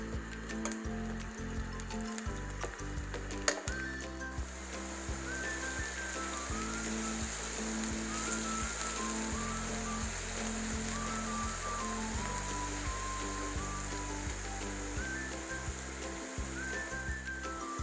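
Two medium chopped onions fry in about a cup of hot oil, giving a steady, bright sizzle and crackle that runs throughout, close and fairly quiet, with no talk over it.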